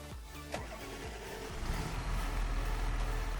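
A tractor engine in the video game Farming Simulator 25 starts up and settles into a loud, steady low rumble.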